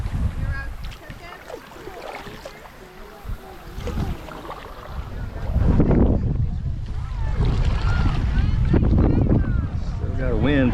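A boat is paddled down the Illinois River in northeastern Oklahoma with wind rushing steadily over splashing water and louder low rumbles partway through, while people talk over it.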